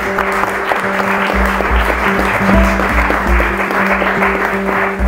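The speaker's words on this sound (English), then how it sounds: "Can I ask a round of applause for the panel, please?" A conference audience applauds a panel on place-based growth, dense steady clapping filling the room at close range, with a low hum and faint murmuring voices beneath.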